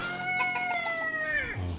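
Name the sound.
rooster crowing and chickens clucking on a farm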